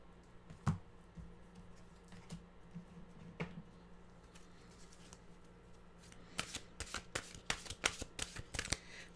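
A deck of mantra cards is shuffled quietly up close, with scattered soft riffles and flicks that grow into a quicker flurry of crisp card snaps near the end.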